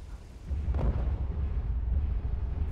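Weapon fire and explosions in the mech combat game MechWarrior Living Legends: a sustained loud, rumbling low barrage with a brief sharp burst near the start, no talking.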